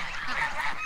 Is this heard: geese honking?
yes